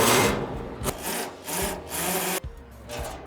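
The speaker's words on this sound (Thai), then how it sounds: "เดี๋ยวเรามาเจาะรูกันดูนะครับ" A tool bores into the metal of a hanging sculpture, giving a series of harsh, scraping strokes that surge and drop in a rough rhythm, close and loud, with no voices.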